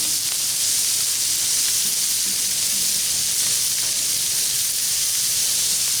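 Vegetables with butter dumped onto a hot Blackstone flat-top griddle, giving a loud, steady, bright sizzle and hiss that holds evenly from start to finish, close up and without voices.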